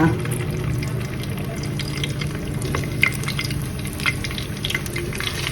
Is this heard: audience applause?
no